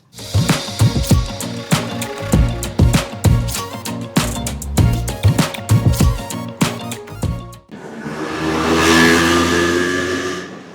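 Motorcycle engines rev and rattle in quick repeated bursts on a street in Marrakech, loud and close, then give way to a broad rushing roar.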